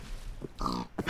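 A pig in the Minecraft video game gives a few short grunts, close and clear, in quick succession.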